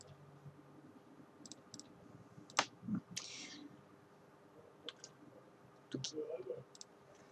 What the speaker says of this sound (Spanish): Hacemos doble clic, tal cual como trabajamos con la herramienta